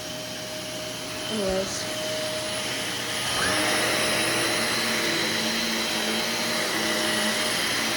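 Steady vacuum cleaner motor drone running throughout while vacuuming the upstairs of a church, its pitch lifting and getting louder near the middle; someone speaks a brief word over the hum.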